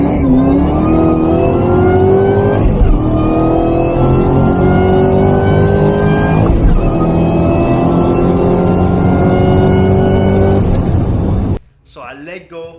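Terminator Cobra running the quarter mile, its engine roaring loud and close as it climbs through several gears with rising pitch sweeps and short shift breaks, then cutting off abruptly near the end.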